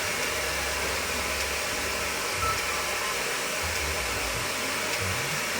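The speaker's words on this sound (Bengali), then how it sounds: "দিদি ব্লো ড্রায়ার করে চুলটা শোকাচ্ছে" A blow dryer runs continuously at close range while drying freshly shampooed hair in a beauty parlour before a haircut, a steady loud whoosh with slight low rumbling shifts and no talking.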